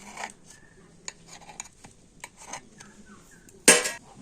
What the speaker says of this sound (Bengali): তো একে একে সবকটা বড়া আমি তুলে নেব।